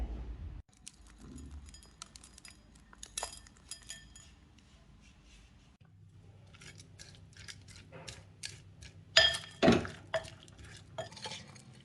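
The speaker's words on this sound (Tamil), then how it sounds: "கல்கண்டு கொஞ்சம் பெரிய சைஸாக இருக்கிறதுனால உடச்சி சேர்த்துக்க போகிறேன்" Large rock sugar crystals (kalkandu) being broken up for panjamirtham produce a series of sharp cracks, clinks and gritty knocks, sparse at first and then heavier, with a few louder hits near the end and no talking.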